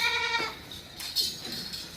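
Goats on a farm bleat loudly and close, one long wavering call followed by shorter overlapping cries from others, with a faint clink near the start.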